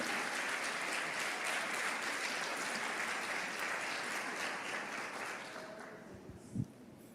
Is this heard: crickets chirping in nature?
no